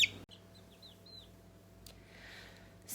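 Baby chicks chirp in short, high, separate peeps near the start, fairly faint against a quiet indoor background hum.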